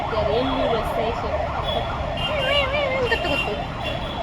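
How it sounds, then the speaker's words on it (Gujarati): An ambulance siren wails in rising and falling sweeps as it passes nearby, heard from a rooftop terrace with traffic rumble beneath. "તો જો અત્યારે એમ્બ્યુલન્સ થાય છે."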